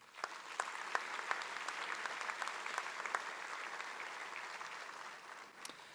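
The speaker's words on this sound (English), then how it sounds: "Ladies and gentlemen, give them a round of applause." An audience applauds at a fire and rescue recruit graduation ceremony, a steady wash of many hands clapping that sounds fairly distant and quiet, sustained throughout before easing slightly at the end.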